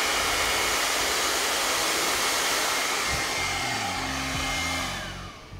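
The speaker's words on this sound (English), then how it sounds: "then we're going to turn on the dryer and we're going to flatten the hair down" A hair dryer blows steadily while curly hair is brushed straight, a loud continuous whooshing roar with faint brush clicks near the end before it winds down.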